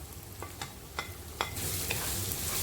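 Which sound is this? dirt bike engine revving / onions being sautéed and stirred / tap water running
onions being sautéed and stirred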